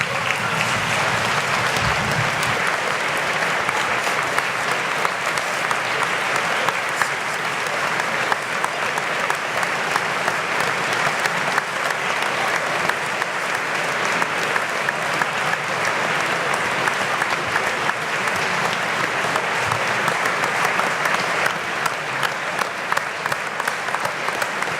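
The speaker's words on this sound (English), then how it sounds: "Please stand and applaud Sir Ben Ainslie." Sustained loud applause from a large crowd at a school event, continuous clapping that stays steady throughout without pause.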